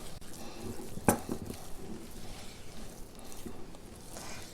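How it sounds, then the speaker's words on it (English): A utensil stirs a thick chocolate mixture for freezer chocolate in a bowl, making soft scraping and sloshing sounds with one sharp clink of metal against the bowl near the start. "I'm going to stir it up a little bit more"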